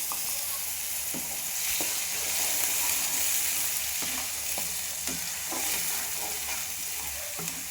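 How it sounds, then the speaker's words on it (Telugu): A ground spice paste with cumin sizzles in hot oil while being stirred in a pan, with continuous frying hiss and regular spoon scrapes and knocks, close up and without speech. "ఈ పేస్ట్ పచ్చి వాసన పోయేంత వరకు వేయించుకొని"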